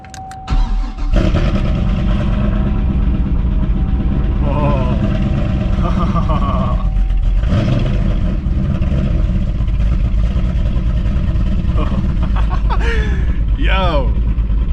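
A cammed Cadillac CTS-V V8 cranks and fires for its first start after the cam swap, then settles into a loud, lumpy, uneven idle that runs throughout, with people talking and exclaiming over the engine noise.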